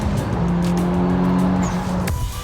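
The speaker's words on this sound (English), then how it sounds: "the brakes are a bit noisy, quite a lot of brake judder" Noisy, juddering brakes on a car with slightly warped discs give a steady groaning, droning tone for about two seconds under broad road and tyre noise, then cut off abruptly.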